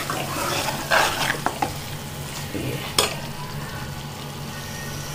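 Masala spices sizzle quietly in hot oil in a wok while a spoon scrapes and stirs, with a few sharp clinks of utensil against metal.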